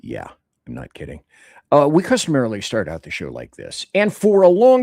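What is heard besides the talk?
No everyday noises stand out.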